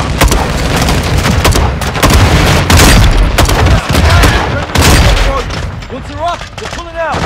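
Grenade launcher fire and explosions roar through a Call of Duty: Modern Warfare II battle, with dense, loud bursts and gunfire rolling almost continuously and voices shouting toward the end.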